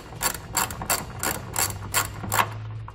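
A ratchet wrench backs out 18 mm head bolts holding the passenger-side tow hook of a 2018 Nissan Rogue, giving about seven close, evenly spaced bursts of rapid clicking.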